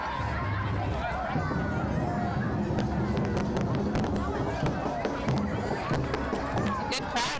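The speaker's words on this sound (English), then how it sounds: "It's a good crowd here tonight." Crowd hubbub at the Rutland City Halloween Parade in the evening, a dense wash of chatter and murmuring voices with scattered sharp pops and claps.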